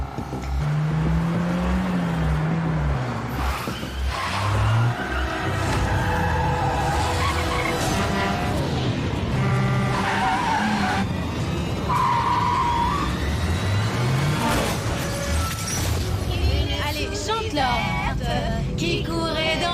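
A car accelerates with tires skidding and squealing in a long, loud stretch of revving engine and tire noise, close by, while a voice speaks intermittently over it.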